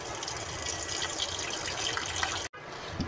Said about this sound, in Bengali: ভাতের চালটা ধুয়ে নিব